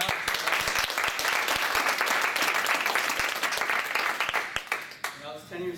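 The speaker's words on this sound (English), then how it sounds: "Let's go ahead and clap it" An audience applauds steadily for nearly six seconds, a dense wash of clapping that thins near the end as a voice begins over it.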